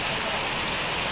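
Heavy rain pours down steadily, a dense, loud, close wash of drops hitting surfaces with no pauses.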